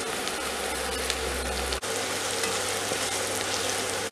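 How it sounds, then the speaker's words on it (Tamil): Dried chilies and garlic fry in hot oil, a loud continuous sizzle with fine crackling and a brief break partway through, no voices. "எண்ணெய் சூடான உடனே காஞ்ச மிளகாவும் பூண்டும் ஆட் பண்ணிக்கலாம்"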